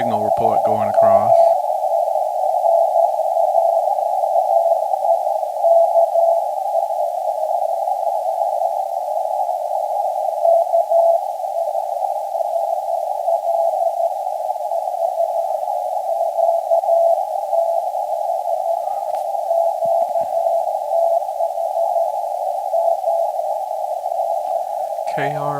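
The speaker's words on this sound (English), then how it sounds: "I hear a signal report going across." An amateur radio RTTY transmission sounds as a loud, steady single-pitched tone that runs almost unbroken, with brief bursts of other radio noise at the start and end.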